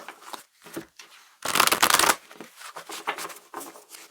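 Tarot cards shuffled in quick bursts close by, with a loud, dense riffle in the middle and lighter flicking and tapping before and after.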